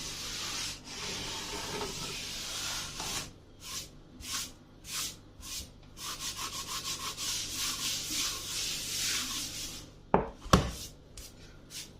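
A work table is wiped down in a home kitchen during chocolate cake baking, with a series of short, close rubbing and scrubbing strokes in an uneven rhythm and two sharp knocks near the end.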